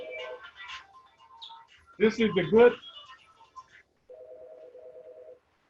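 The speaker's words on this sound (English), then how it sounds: "I need to put that phone on mute." A phone ringtone sounds nearby as short repeating electronic tone bursts at the start and again near the end, with a person talking in between.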